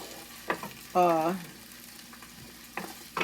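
Bacon and cabbage fry in a pan with a soft, steady sizzle, broken by a few short clatters as the food is stirred and a person talks briefly.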